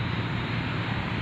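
A small non-GPS drone with altitude hold flies nearby outdoors, its motors giving a steady, continuous buzzing whine with no pauses through the short moment.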